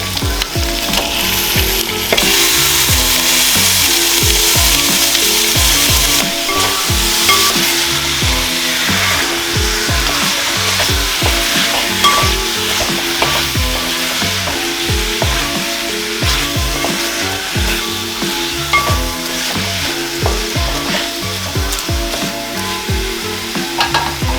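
Chicken tossed into a hot pan with mint and coriander for a white chicken mushroom biryani sizzles loudly and continuously, with repeated rhythmic stirring scrapes throughout and no voices.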